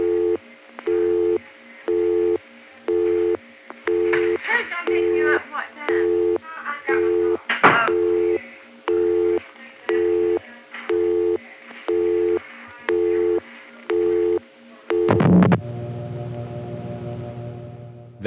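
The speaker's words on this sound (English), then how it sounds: "I didn't do anything but dial a busy number, and that busy signal always is transparent like that" A telephone busy signal on a Western Electric PBX line repeats as evenly spaced on-off tone bursts, steady and clear, briefly interrupted by a louder noisy burst before the pattern resumes and gives way to a different tone.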